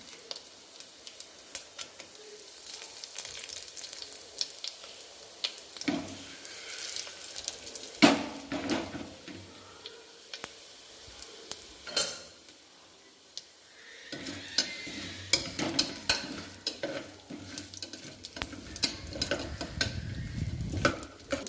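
Urad dal, chana dal and broken dried red chillies frying in oil, a soft intermittent crackle and sizzle broken by clinks and scrapes of a spoon against the pan, with no talking.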